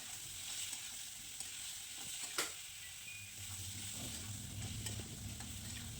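Papaya pieces fry with salt and turmeric in a pan for a meat curry, giving a steady close sizzle with a spatula scraping and stirring throughout, plus a sharp knock midway and no talking.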